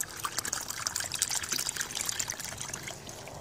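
Water pours steadily into a sub-irrigated planter's watering tube, a continuous close trickling splash that runs without a break for a few seconds.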